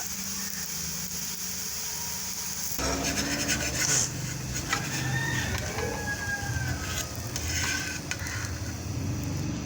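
Small sweet puda flatbreads cook in a pan with ghee. A quiet start gives way after a few seconds to a louder sizzle, with scraping and stirring sounds close by.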